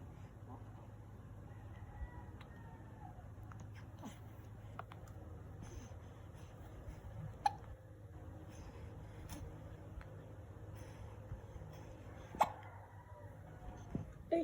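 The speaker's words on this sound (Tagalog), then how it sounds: "Ay, ang lakas ng sinok." A baby hiccups in quick, faint, sharp little bursts scattered over a quiet room hum, with several louder ones near the middle and end.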